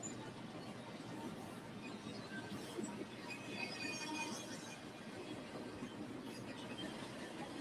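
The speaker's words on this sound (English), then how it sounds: "This is the incident of the intermodal train." Union Pacific intermodal freight train passing on a triple-track mainline, a faint, steady distant rumble with light metallic squealing and hiss, continuous and unaccompanied by voices.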